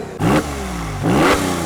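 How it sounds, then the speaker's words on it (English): Loud car exhausts rev on a downtown Wyandotte street at night, two sharp engine bursts rising and falling about a second apart, close by and with no talking. "loud exhausts, people revving their engines, loud motorcycles"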